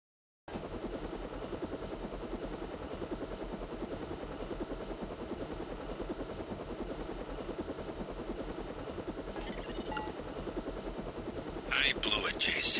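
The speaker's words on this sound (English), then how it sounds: "Time to see if this stealth copter is worth all the fuss." Steady, continuous rotor drone of a stealth helicopter in flight in the Deus Ex video game, loud and close throughout, with brief bursts of higher hiss near the end.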